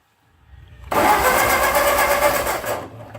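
A 1945 Ford 2N tractor engine cranks over under the starter, a loud, rapid, even churning that rises in after a quiet buildup and runs for about two seconds before cutting off.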